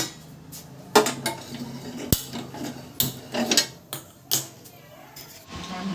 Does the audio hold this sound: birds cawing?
no